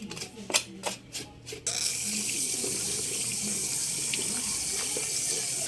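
Catfish is washed under a running kitchen tap: a few scattered splashes and handling noises give way to a steady, close gush of water that runs on without talk.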